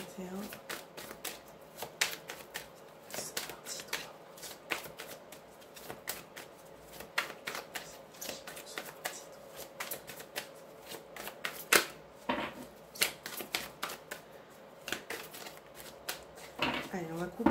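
A deck of tarot cards is shuffled close by in a series of quick papery riffles and taps, while someone speaks softly over the shuffling.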